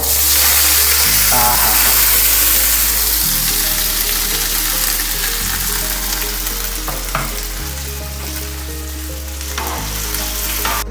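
Pork sizzles steadily in a hot pan at a powered campsite in Tasmania, close and loud, with a low electrical hum underneath and occasional clinks.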